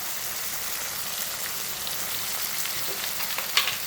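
Chopped tomatoes added to a pan after the onions for a beerakaaya curry sizzle and fry with a steady, dense crackle like rain, plus a slightly louder spatter near the end.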